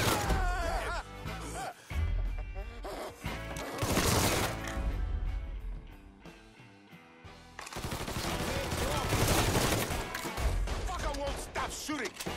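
Gunfire in Mafia III, dense loud volleys of shots and impacts in sustained bursts, with a brief lull midway before heavy firing resumes, mixed with shouted voices.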